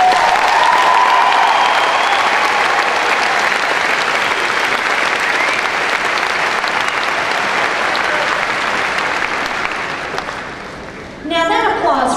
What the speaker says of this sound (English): Now that applause reminds me of one other thing